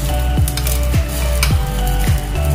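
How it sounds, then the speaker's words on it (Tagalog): Parata frying in a pan, a loud steady sizzle close up, with four sharp scraping or tapping strokes spaced about half a second apart and no talk. "Ayan, nagluto na lang ako ng parata."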